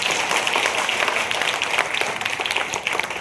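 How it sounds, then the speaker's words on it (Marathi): An audience at a scholarship exam felicitation claps together in a dense, sustained round of applause, steady and fairly loud throughout. "तर सरांसाठी एकदा जोरदार टाळ्या वाजवा"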